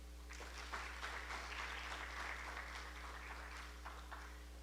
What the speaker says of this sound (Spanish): Entonces, un aplauso a Dios.